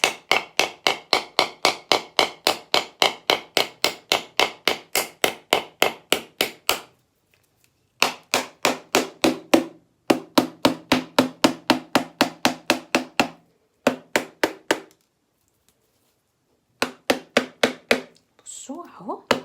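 Rapid bursts of sharp hammer strikes cracking a coconut shell, repeated in quick runs separated by short pauses, loud and close.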